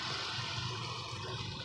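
A spoonful of water splashes into a cooking dish of taro and eggplant, producing a steady close sizzling hiss with bubbling water throughout.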